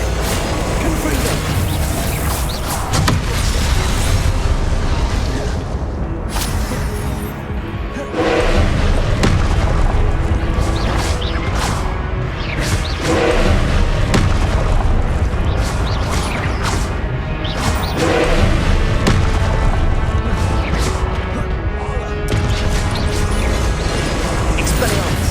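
Hogwarts Legacy gameplay with repeated Confringo fire-blast spells: continuous dense booms and crashing impacts layered over game music and effects, loud throughout with no pauses.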